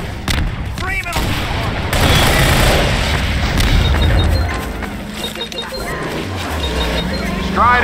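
Heavy gunfire and explosive booms in Half-Life 2 co-op (Synergy, Episode Two), with rebels fighting near a sawmill; dense, loud, continuous shooting and blasts, with in-game voices shouting over the combat.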